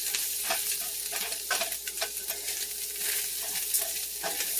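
Rice toasting in a pan for beef and mushroom risotto, a continuous sizzle under frequent quick scraping strokes as the grains are stirred, close and fairly loud.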